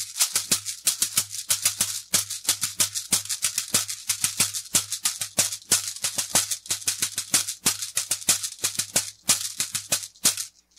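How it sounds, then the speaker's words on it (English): Gourd shaker wrapped in a net of beads, shaken in a fast, steady rhythm of crisp rattling bursts, close and loud with no voices. "here's a shaker that can come from both Latin America and Africa"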